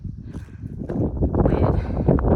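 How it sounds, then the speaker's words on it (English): Wind rushes across an open mountain area on the Appalachian Trail, making a steady, rumbling roar that swells and buffets the microphone and grows stronger toward the end. "The clouds are great, and this wind is just delightful."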